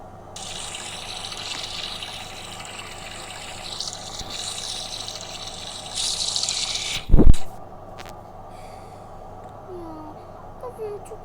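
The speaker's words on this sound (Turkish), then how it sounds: "Neyse elimi yüzümü yıkayayım ben" Tap water runs continuously from a faucet during hand and face washing, a steady close hiss that swells and splashes louder midway, with a sharp thump around seven seconds before the flow trails off.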